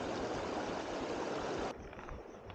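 A small river rushes in a steady broadband wash of flowing water, loud and close at first, then drops to a softer, more distant gurgle near the end.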